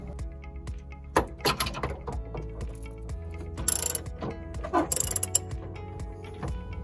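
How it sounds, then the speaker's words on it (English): A 24mm wrench undoing the cab retention bolts behind the operator seat of a 3TS Teleskid, with close, repeated ratcheting clicks in bursts and metallic clinks between strokes. "The only tool you need is a 24mm wrench to undo the two retention bolts behind"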